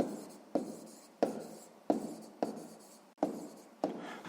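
A pen writes out a math answer in a series of about seven short, scratchy strokes, each starting sharply and fading, close and quiet with no voices.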